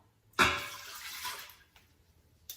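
Water poured into an Instant Pot makes a burst of broadband splashing that starts suddenly, carries on steadily for about a second, then thins to scattered drips, with no talk.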